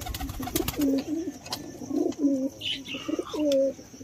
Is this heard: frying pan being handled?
no